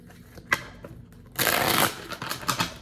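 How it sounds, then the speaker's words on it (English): A deck of tarot cards is shuffled during a reading: a few light card flicks come first, then a louder, riffling burst of shuffling, then scattered softer flutters close by. "Shuffle it twice"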